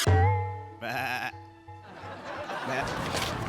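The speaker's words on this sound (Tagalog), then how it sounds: "Kambing na to eh." Goat bleating, with loud wavering bleats in quick succession near the start that give way to chatter and laughter as people talk over them.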